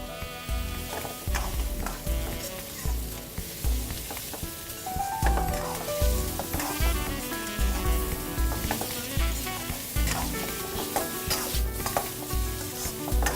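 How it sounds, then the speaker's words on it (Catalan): Food sizzles and crackles in a wok on high heat while utensils scrape and toss it in quick, repeated strokes; busy kitchen clatter, no talking. "Hem de donar bastanta potència en el wok, que agafi força calor."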